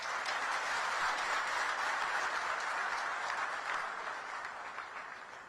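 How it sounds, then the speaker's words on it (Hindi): Audience at a launch event for inter-state buses in Delhi applauding again, a dense continuous wash of clapping that holds steady and then slowly fades. "तो एक बार फिर से बजा के दिखाओ।"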